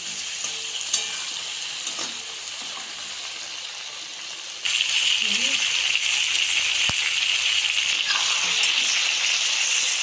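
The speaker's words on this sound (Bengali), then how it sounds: "এর মধ্যে নেড়ে নেড়ে ভাজতে হবে" Mixed vegetables stir-fried in hot oil for a traditional Bengali bori jhol: a steady, close sizzle with light scraping and tapping from the stirring, growing louder and denser about halfway through.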